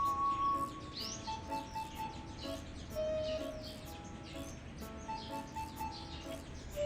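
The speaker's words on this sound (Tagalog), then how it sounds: "nakikinig ka Sam sa ibon" Small birds chirp and whistle in thin, brief notes, fairly faint against background noise, while people speak quietly nearby.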